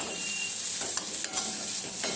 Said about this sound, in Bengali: পেঁয়াজ পাতা দিয়ে আবার খানিকটা হালকা ফ্রাই করে নিচ্ছি।